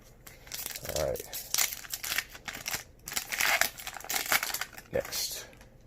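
A Pokemon trading card booster pack crinkles and tears open in close, irregular bursts of foil rustling and ripping, with a voice speaking at moments in between.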